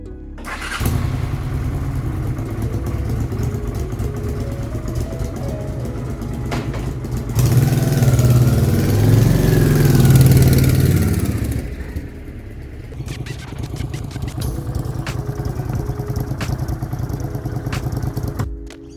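Honda Shadow 750 motorcycle engine running on the road, a steady mid-pitched rumble that swells into a louder, throatier stretch in the middle before settling back, with wind noise around it.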